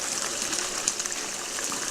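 Water running steadily through a gold washer capture mat and sluice box, a continuous bright hissing gush with no break or speech, fairly close and even in level.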